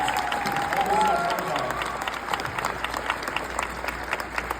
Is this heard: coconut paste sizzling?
no